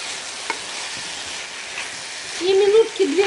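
Food frying in a pan while being stirred, with a soft continuous sizzle and faint scraping, followed near the end by a louder burst of sizzling and a brief tonal squeak as the pan contents are moved.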